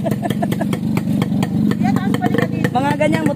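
A motorcycle engine passes at a campsite in Tanay, its mid-pitched revving rising and falling over steady loud chatter, with people talking over it throughout.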